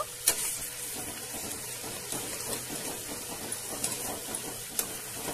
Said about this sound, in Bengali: এবার কিছুটা আদা আর রসুনের পেস্টটাও এর সঙ্গে অ্যাড করে নিচ্ছি, নিয়ে একটুখানি কষিয়ে নেব